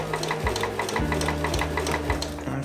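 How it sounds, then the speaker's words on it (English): A sewing machine with a heavy denim needle stitching through plastic on a baker boy cap, a fast steady mechanical clatter with repeating stitch beats, close and alone without talk. "You can actually hear on my machine that it's catching that plastic there"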